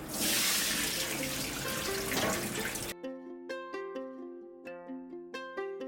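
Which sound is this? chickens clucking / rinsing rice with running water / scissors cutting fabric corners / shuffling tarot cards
rinsing rice with running water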